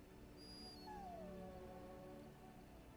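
A war hound in Dragon Age Origins lets out a single drawn-out, descending whine over a steady background hum, ending in a brief soft thump.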